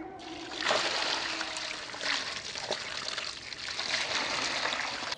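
Water trickles and splashes softly in a continuous gurgling stream, draining away with small surges, fairly faint.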